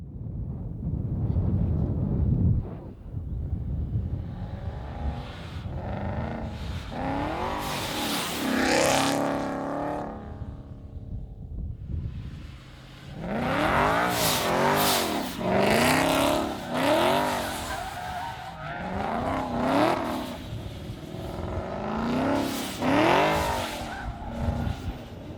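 A race car engine revs and roars through several loud bursts with tire squeal, miked close at the muffler and side of the car, rising and falling in pitch with wind buffeting and no talking.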